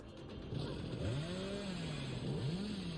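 Hillbilly's chainsaw in the video game Dead by Daylight revving into a sprint, a buzzing motor whine that rises and bends in pitch over a rough, noisy roar, fairly close and continuous for a few seconds.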